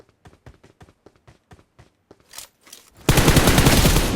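BGMI video game: a run of light, evenly spaced footsteps, then a sudden loud, dense burst of rapid automatic gunfire that continues to the end.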